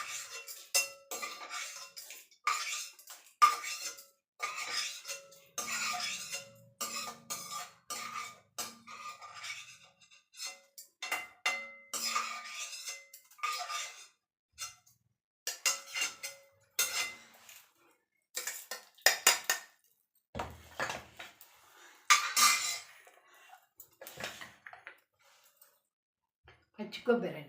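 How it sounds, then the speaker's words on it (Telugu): Metal utensils clatter and clink against a mixer jar and pans as fried lentils are scooped in, with repeated short scraping and tapping sounds close by, under steady talking throughout. "ఇప్పుడు మిక్సీ జార్లోకి తీసేస్తాం కదండి"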